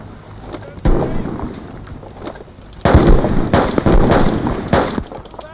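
Gunfire and grenade blasts from the video game Army Troop, with bursts of shots and heavy booms coming in waves, the loudest stretch in the second half, while a voice talks over them.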